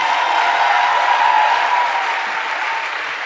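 A church congregation applauds, a dense, even wash of clapping that stays steady and fairly loud before easing slightly toward the end.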